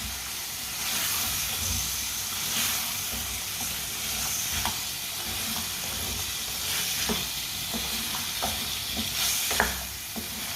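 Mixed vegetables, including finely cut potato and carrot, stirred in a hot pan under a constant hissing sizzle. Intermittent scraping strokes and light knocks sound nearby, with no voices.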